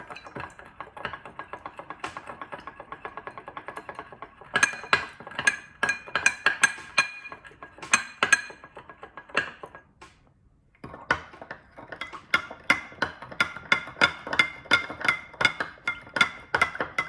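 A spoon stirs salt dissolving in a glass of water, producing rapid bright clinks against the glass in bursts, pausing briefly before a steady run of ringing taps resumes, close and clear with no talking.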